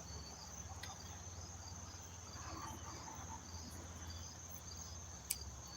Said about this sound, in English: Crickets are okay.